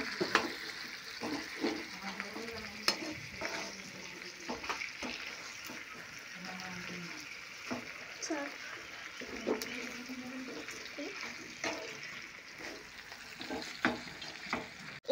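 Chicken with turmeric and cumin powder is stirred and fried in a pan for chicken kosha, with soft sizzling, scraping stirs and clinks while a person talks over it.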